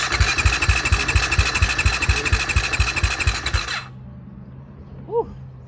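A 2022 Husqvarna FC 350 motorcycle engine held at wide-open throttle roars loud and close with a rapid, steady pulsing beat, then cuts out abruptly and leaves near-silence with a faint hum.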